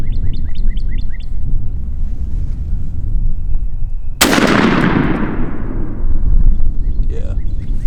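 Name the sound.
shotgun firing a 1.5 ounce Rocky Ridge turkey load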